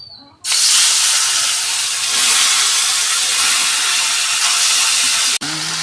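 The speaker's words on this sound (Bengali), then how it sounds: "পাবদা মাছ ভেজে নিয়েছি, ওই তেলে মাছগুলোকে একটু ভেজে নেব।" Pabda fish fry in hot oil, a loud, steady sizzling hiss that starts suddenly and holds continuously for about five seconds before breaking off sharply.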